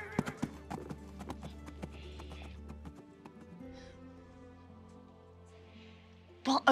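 A horse's hooves clip-clop as it is mounted and ridden off into the woods in a fantasy tabletop game scene, a fairly faint, quick rhythm set against a low musical drone.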